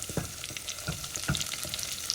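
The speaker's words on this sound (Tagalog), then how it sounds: "igisa lang natin hanggang maging golden na rin ang sibuyas natin" Onions sautéing in a pan after the garlic has browned, a steady close sizzle and crackle with occasional stirring scrapes, no voices.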